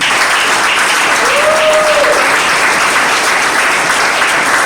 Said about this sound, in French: nous pouvons acclamer pour lui